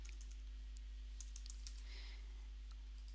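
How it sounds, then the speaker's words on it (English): Light, quick keystrokes tap on a computer keyboard in a quiet room, a short run of soft irregular clicks over a low steady hum. "I could type in yoga."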